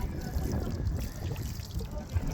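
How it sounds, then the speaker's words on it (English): A watering can pours a heavy stream onto a freshly seeded pot of Bright Lights cosmos, a steady close trickle and splash of water on soil. "we take our can and we give it really heavy water"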